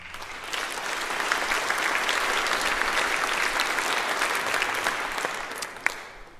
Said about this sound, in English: They deserve our applause for so much action.